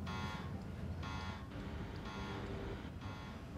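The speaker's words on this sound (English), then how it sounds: "I hear some sort of horrible beeping noise." A repeated electronic beeping plays in the SimCity Cities of Tomorrow city-building game, with several evenly spaced buzzing tones sounding faintly over a steady background.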